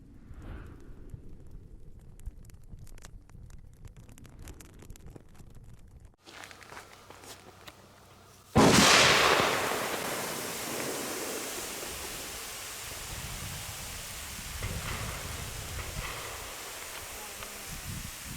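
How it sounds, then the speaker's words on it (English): Steam bursts off a hot HK21 machine gun barrel at a shooting range with a sudden loud hiss after several quiet seconds, then settles into a sustained sizzle that slowly fades. "Steamy gun barrel ASMR."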